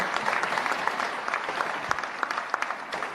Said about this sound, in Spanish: Fuertes los aplausos, señoras y señores.